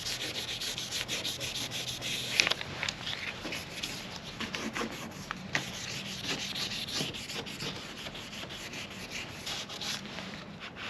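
Steady hand sanding of a car headlight lens with a 3M Ultra headlight restoration kit, a close, continuous scratchy rubbing in short back-and-forth strokes with no talking.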